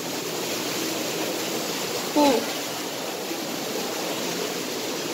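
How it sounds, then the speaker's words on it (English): Broad, steady rush of falling water from a waterfall in the Disney Rise of the Resistance preshow area, constant and moderately loud throughout, with a brief exclamation from a person partway in. "Got a nice waterfall there."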